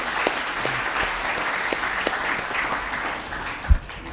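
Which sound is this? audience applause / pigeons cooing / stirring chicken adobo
audience applause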